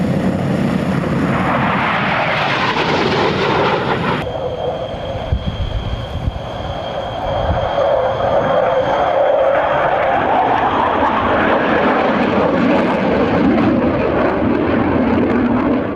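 A Panavia Tornado jet flies overhead with a loud, sustained roar that shifts in pitch as it passes. The noise stays continuous and powerful throughout with no voices.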